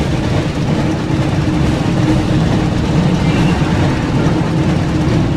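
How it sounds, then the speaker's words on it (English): Hogwarts Express train from the Harry Potter and the Chamber of Secrets PlayStation 1 game, a loud, continuous low rumble that stays steady throughout with no voices. "Looks like we found the train, Ron."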